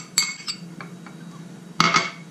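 Mayonnaise and cream cheese being stirred together in a bowl, with a few sharp clinks of a utensil against the dish at the start and again near the end, and quieter scraping in between.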